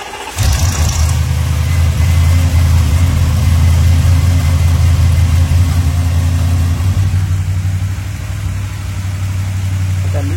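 An Audi RS7 engine with upgraded intake and high- and low-pressure fuel pumps starts and settles into a loud, deep, steady idle close by, with a slight drop in level near the end.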